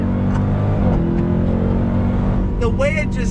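A Dodge Durango Hellcat SUV, 2021 model, pulls hard in second gear on throttle, a loud sustained engine roar with a rising whine near the end.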